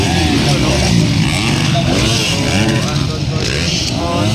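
Novice lights 250cc motorcycles racing, two 14-year-old riders battling, engines droning loud and steady with rising and falling pitch throughout, a race announcer talking over the roar.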